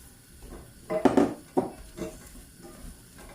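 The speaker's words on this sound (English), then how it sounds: "I've melted some butter in the pan. Just going to add the fruit now." Apples and rhubarb tipped into a pan of melted butter for a gluten-free crumble, giving a few clattering, sizzling bursts of fruit hitting the hot pan and a pot being handled, close by with no talk.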